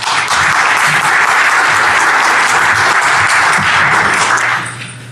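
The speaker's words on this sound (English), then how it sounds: "So let's give a round of applause for Takahiro." A conference audience at Black Hat 2017 gives a sustained round of applause for an incoming speaker. It stays loud and dense for about four and a half seconds, then tapers off at the end.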